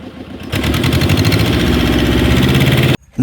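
A fishing trawler's engine runs at sea in the Bay of Bengal, a loud, close, steady diesel chugging with a rapid knocking pulse that swells after a moment, then cuts off abruptly near the end.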